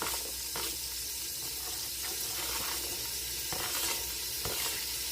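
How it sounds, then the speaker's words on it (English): Onions fry in a Dutch pot on a lowered heat with a steady, dense sizzle throughout, broken by a few soft stirring scrapes. "I'm going to put in my onions right into the Dutch pot"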